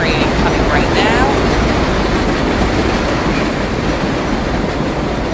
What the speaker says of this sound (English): There is a train coming right now,